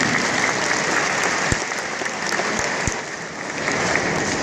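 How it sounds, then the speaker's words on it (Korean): Audience applause at a gathering, a dense, even patter of many hands clapping continuously, fairly loud and close, with no talking over it. "우리가 박수 한번 주면서 보겠습니다"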